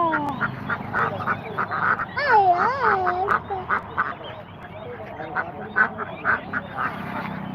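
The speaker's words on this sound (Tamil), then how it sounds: "வாத்து அப்படியா கத்துது" Repeated nasal duck quacks in quick, uneven bursts at a village market, fairly close and loud, with a few longer calls mixed in and faint background chatter.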